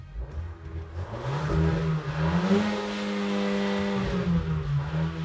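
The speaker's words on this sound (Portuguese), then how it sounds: "Escuta o ronco alto e também o turbo dando uma acelerada." A Fiat Pulse Abarth 1.3 turbo engine with a deep sporty exhaust revs up from idle, its tone climbing to a sustained high hum before easing back down, close and loud.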